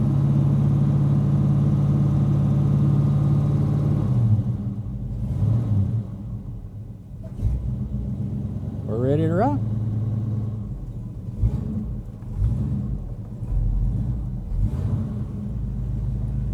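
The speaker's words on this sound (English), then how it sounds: "The old car's not very loud," An old car engine idles with a steady low rumble, then revs up briefly mid-way before settling back, while someone talks over it throughout.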